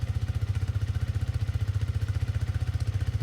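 A cold Hero Karizma XMR 210 motorcycle idles nearby: a steady, deep, rapid thumping beat that holds constant and loud with no other sounds.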